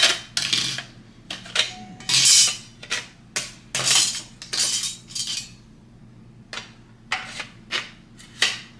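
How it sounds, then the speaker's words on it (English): Ginger being grated on a small mandolin: a run of short, bright scraping strokes in uneven rhythm, close and fairly loud, with light clinks between passes and no talk. "I'm gonna grate up the ginger and then put it all in a container"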